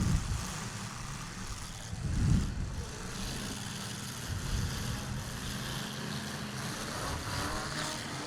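A demolition derby car's motor runs loud and steady at a muddy Halloween Havoc derby in Ogden, Utah, with a brief surge of rumble partway through and crowd noise behind it.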